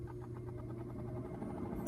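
A rooftop air conditioning unit on a converted RAM Promaster camper van starting up with the engine off, a steady low mechanical hum with rhythmic fan pulsing, moderately quiet and without talk.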